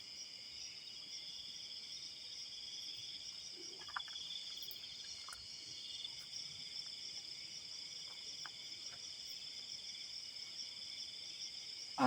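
A grasshopper chirps at night near a campsite, a faint, continuous high-pitched insect drone that holds steady throughout with a few soft ticks and rustles beneath it.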